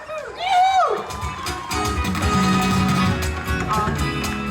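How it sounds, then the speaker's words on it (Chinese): An audience at an outdoor concert for a ginger lily flower festival in a mountain village in Pingtung, Taiwan, breaks into sustained applause and cheering right after a voice speaks over a microphone. "掌声欢迎老王"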